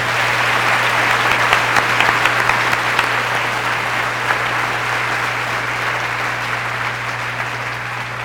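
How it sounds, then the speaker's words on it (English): Audience applause at a school centennial celebration, a loud, sustained wash of many hands clapping, steady throughout with a constant low electrical hum beneath. "Could we have a round of applause for those people,"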